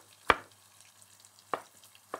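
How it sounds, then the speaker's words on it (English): A knife roughly chopping peeled ripe tomatoes on a board gives three sharp, separate taps, the first loudest, spaced unevenly over a quiet kitchen background. "And again, just roughly chopping the tomato."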